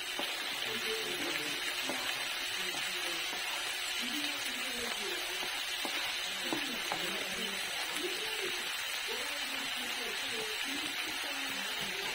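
Onion and minced garlic sizzling in a pan for pork sisig, a soft continuous frying hiss with faint stirring scrapes, heard fairly quietly while a person talks over it.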